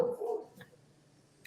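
A house dog barks and yelps excitedly as a car pulls up outside, loud at first and then fading to quiet, with a brief sharp sound near the end.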